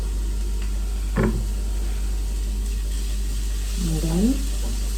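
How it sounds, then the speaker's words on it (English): Garlic sautéing in a preheated pot while cooking ackee choch, a steady soft sizzle running throughout with brief stirring scrapes and a faint voice in the background. "So my pot was preheating. And then our garlic. Saute a little bit."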